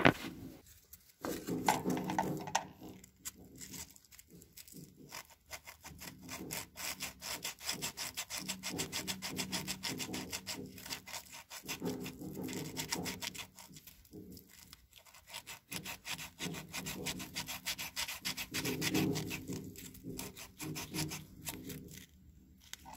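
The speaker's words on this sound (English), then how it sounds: "maybe I'll run some sandpaper in there, just see what happens" Sandpaper rubbing by hand inside a metal part of a John Deere 420 crawler, a quiet, close rasping scrub in rapid back-and-forth strokes with short pauses.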